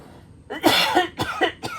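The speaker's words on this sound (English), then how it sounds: "I'm going to cough." Three or four harsh coughs in quick succession, close and loud, with brief pauses between them and no talking.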